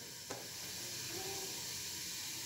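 Whole cumin seeds sizzling in hot oil with cloves and star anise, a steady soft frying hiss with a small pop near the start.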